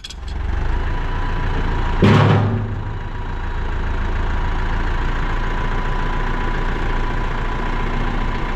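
A steady, low engine idle rumbles continuously, with a brief louder burst near the start before settling back to an even drone.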